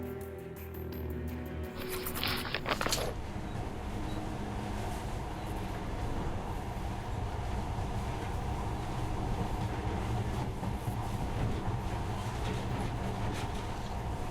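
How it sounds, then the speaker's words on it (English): A monorail train runs in the video game Metro: Last Light Redux, giving a steady, loud rolling rumble with faint rail clatter. A brief brighter burst comes near the start, and the sound holds level throughout. "In the past, trains were ordinary things. But now, this monorail seems magic, doesn't it?"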